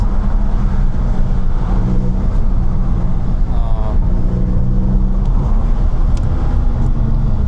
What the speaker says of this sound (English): let me do a quick pull with the E36